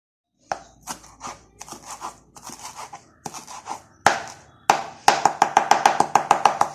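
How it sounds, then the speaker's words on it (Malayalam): A knife chops coriander leaves on a board: a few spaced, uneven strikes at first, then a quicker, regular run of crisp chops close by. "നമുക്ക് മല്ലിച്ചപ്പ് ഒന്ന് അരിഞ്ഞെടുക്കാം."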